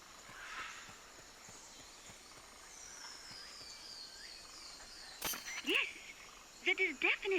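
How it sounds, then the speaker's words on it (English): A quetzal calls in Metal Gear Solid: Peace Walker, giving a few short, bright chirping notes near the end over a steady jungle ambience of insects and frogs. "That is definitely the Quetzal. He must be nearby."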